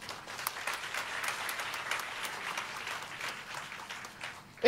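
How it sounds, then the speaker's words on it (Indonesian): Church congregation applauding during a sermon. The clapping is moderate and fairly distant, swelling and easing in a continuous wash, with a louder burst at the very end. "Coba tepuk tangan buat GMCC."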